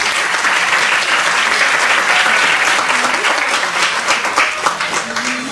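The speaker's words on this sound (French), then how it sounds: "Applaudissez-la, s'il vous plaît." Dense, loud applause from an event audience honouring a deputy mayor fills the room steadily, then thins toward the end as a voice starts to come through.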